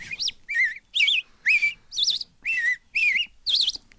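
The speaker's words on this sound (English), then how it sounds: "singing robin" A robin sings eight short, bright whistled phrases at a steady, evenly spaced rhythm, clear and close against a quiet background.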